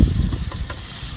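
Chow mein being stirred and tossed in a frying pan, a steady low sizzle with soft scraping strokes, close and continuous with no talking.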